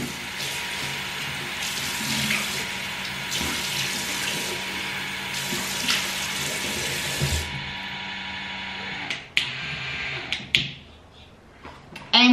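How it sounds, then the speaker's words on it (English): Warm water runs steadily from a bathroom tap for several seconds while someone wets their face, then the flow stops and a few soft splashes and clicks follow. "I'm gonna wet my face with warm water."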